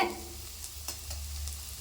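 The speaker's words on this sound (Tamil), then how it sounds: "இப்போ இந்த பூண்டு வதங்கிட்டு இருக்குது" Garlic sautéing in a pan while making garlic pickle, a quiet, steady sizzle with occasional soft stirring scrapes.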